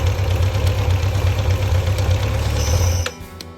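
A carbureted engine idles steadily right after a carburetor synchronization adjustment, with a smooth, even, fairly loud note that cuts off abruptly near the end.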